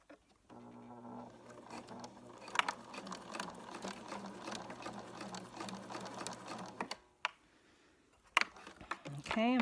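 A sewing machine stitches elastic onto a thrift-store garment in one steady, close mechanical whir lasting several seconds, then stops, followed by a few quieter clicks and handling noises.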